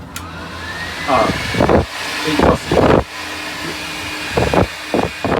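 A wall-mounted hairdryer in a cruise ship cabin whirs steadily in the background while a person speaks briefly in bursts over it.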